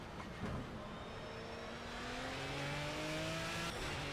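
A BMW V12 LMR race car in Project CARS lapping the Nurburgring, its engine note climbing steadily through a sustained high rev under a constant wash of road and wind noise, heard alone.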